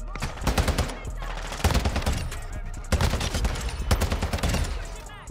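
Rapid automatic gunfire from a TAQ V rifle in Call of Duty MW2, loud close bursts in several sustained volleys with brief gaps, over game ambience and a voice in the background.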